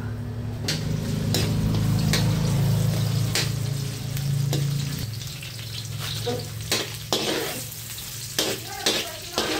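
Ginger sizzling in hot cooking oil while preparing a Bicol-style stingray dish, a steady frying hiss with occasional sharp stirring clicks and scrapes of a utensil in the pan.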